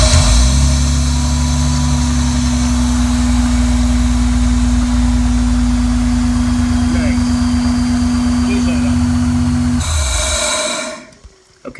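A supercharged J-series car engine runs loud and close with a steady droning hum and rumble for about ten seconds, then cuts off and falls silent.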